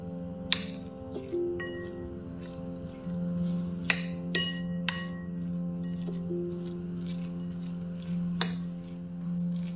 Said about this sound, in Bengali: এখন সব উপকরণ একসাথে মিশিয়ে নিব।